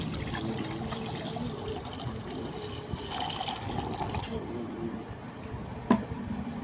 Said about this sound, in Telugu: 1 లీటర్ వాటర్ బాటిల్ తీసుకున్నాను. వాటర్ అయితే పోసేసుకుంటున్నాను నేను.